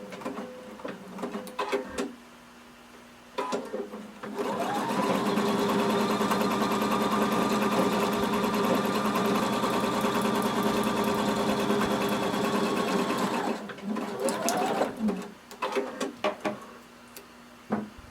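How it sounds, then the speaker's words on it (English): A sewing machine runs a long, continuous seam with a 3/8 inch allowance, a steady close hum lasting about nine seconds, with short bursts of stitching and handling clatter before and after. "we're going to sew using 3/8 of an inch seam allowance all the way down"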